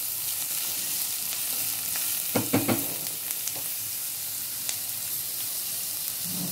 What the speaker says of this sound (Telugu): సన్నగా తరిగిన ఆనియన్స్. దగ్గర కొంచెం గోల్డెన్ బ్రౌన్ అయ్యేదాకా వేయించాలి